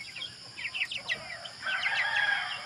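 Broiler chickens clucking and chirping in short bursts, fairly faint and close, with no talking over them.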